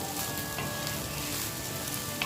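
Rice frying in a hot pan while being stirred, a steady close sizzle with occasional soft scrapes and clinks of the utensil against the pan, with no voices over it.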